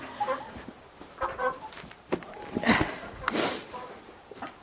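Chickens cluck and squawk inside a winter chicken coop, intermittent close calls with busy rustling, while a person talks over them.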